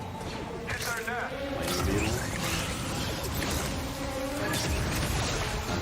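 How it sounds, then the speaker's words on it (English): Swarming flame beetles from a video game give off a dense, continuous insect-like buzzing under people talking, with occasional sharper bursts layered through the hum. "Flame beetles, they're coming through the wall."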